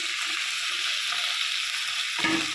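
Wood potato pieces frying with chillies in a hot pan give a steady, close sizzle that runs throughout, with a brief change in tone near the end as they are stirred.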